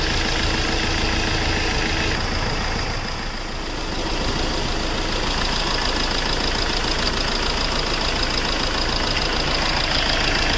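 A Hyundai diesel engine idles steadily and loudly up close, its rough, uneven running from a misfiring third cylinder throughout.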